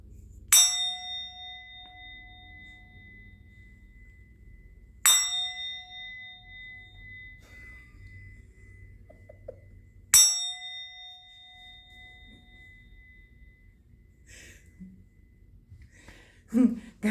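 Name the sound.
bell being rung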